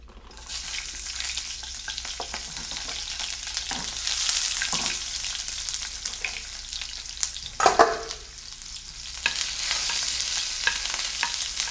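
Sliced onions fry in a pan at a farm cooking school, giving a steady hissing sizzle throughout with a few louder crackles and scraping stirs, and no voice over it.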